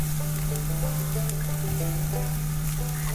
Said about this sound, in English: Then comes the crushed garlic, and right after that we layer up the asparagus on the pan.